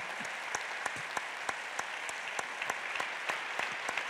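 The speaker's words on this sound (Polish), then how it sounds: "Brawa dla Roberta." An audience at a media awards gala applauds for a film editor, a steady, fairly distant roll of clapping with scattered sharper individual claps standing out.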